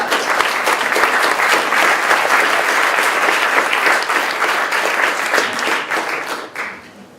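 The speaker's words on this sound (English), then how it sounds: "Have one big round of applause for all three of us." Sustained applause from an audience at a startup funding event, loud and steady for several seconds before tapering off at the end.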